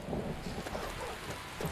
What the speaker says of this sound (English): Because it's raining and it's dark.